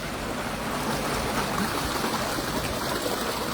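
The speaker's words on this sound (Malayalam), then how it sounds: "അതെന്ത് വൃത്തിയിലാണ് ആ വെള്ളം ഒഴുകണം നോക്കി" Clean water rushes steadily along an open street channel in Bern's old city, a continuous, even wash of flow heard up close with no pauses.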